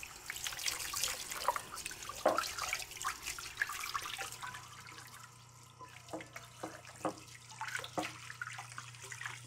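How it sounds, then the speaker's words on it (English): Tap water runs over a whole chicken as it is rinsed in a sink, a close, steady splashing and trickling with irregular drips and spatters and a low hum beneath. "Then rinse under running water thoroughly."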